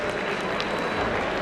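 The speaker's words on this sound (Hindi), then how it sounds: "तालियों के द्वारा अभिनंदन" Applause welcoming a speaker at a college alumni meet, a dense, steady patter of many hands filling the hall for the whole short stretch, with some crowd noise mixed in.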